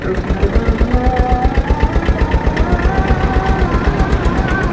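A Tata mini pickup truck's engine idles nearby with a steady, rapid diesel-like knocking throb, loud and continuous throughout.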